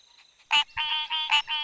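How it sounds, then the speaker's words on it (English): Common tree frogs croak at a breeding ground near a stream, a loud close series of buzzing, rasping calls in quick bursts with short gaps. "We found the tree frog's breeding ground."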